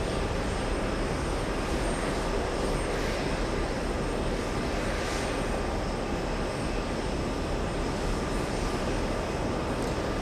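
A Delta Boeing 777 heavy jet taking off at JFK, a loud, steady, broadband engine roar holding constant throughout, with no voices over it.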